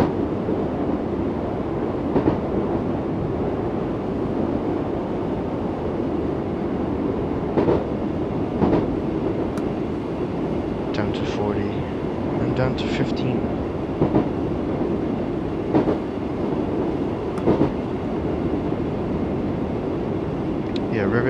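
A Class 484 electric train runs on the Island Line to Shanklin in Train Sim World 3, with a steady rumbling roll, periodic clacks of wheels over rail joints and occasional higher squeals, while a voice talks throughout.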